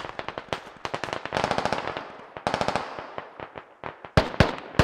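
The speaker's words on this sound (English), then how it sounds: "More rockets fired." Rockets fire in rapid bursts during a Squad video game battle, a dense run of sharp, loud cracking blasts that arrive in quick clusters with brief gaps, all heard without voices.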